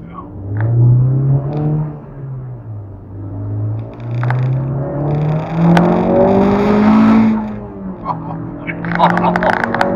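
A Honda Civic Type R hot hatch engine revs and accelerates hard, a loud rising and falling drone heard from inside the car, with a brief pause before climbing again and no talk over it.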